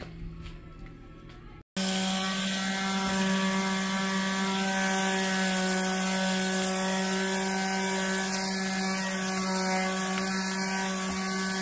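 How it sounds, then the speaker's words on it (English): After a short pause, a power drill runs steadily for a long stretch, drilling air holes in a vermicompost tower, its motor whining in a constant, close, buzzing hum. "I'm going to continue drilling the rest of these"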